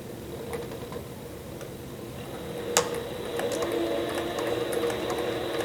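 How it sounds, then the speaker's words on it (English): A Sailrite leather sewing machine stitches a small leather oil coaster and back tacks, giving faint soft repetitive ticking and clicking against a steady low background hum. "I'll get about 2 stitches in and I'll just back tack a couple."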